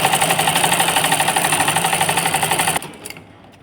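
A domestic sewing machine stitches fabric for palazzo pants in a steady, rapid mechanical rhythm, close and loud, then stops abruptly near the end.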